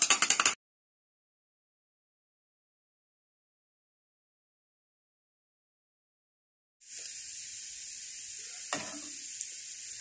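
Chopped garlic goes into hot oil for dal, first with a brief sharp sizzle, then after a pause with a steady, close frying hiss and a small clink partway through; no one speaks.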